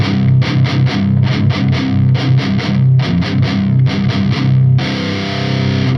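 An electric guitar plays through a 5150 amp with no Detonator booster, giving tight, heavily distorted palm-muted chugs in rhythmic bursts, ending on a sustained ringing chord, loud and close with no voice.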